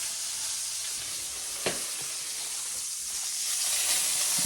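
Steak sizzling loudly in a hot pan, a constant bright hiss and crackle up close, with one sharp scrape or clink near the middle and the sizzle swelling toward the end.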